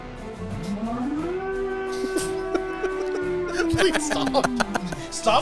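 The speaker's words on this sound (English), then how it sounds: "It's one of those old school sirens that you actually have to crank" An old-style hand-cranked siren in Super Robot Wars V winds up to a sustained wail, holds, then falls away, with scattered clanks and sharp knocks around it near the end.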